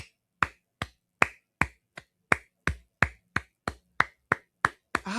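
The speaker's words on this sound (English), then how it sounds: "Let me clap for Ellen." A lone pair of hands claps at a government event in Baka, about a dozen crisp, evenly spaced claps, close and loud against near silence.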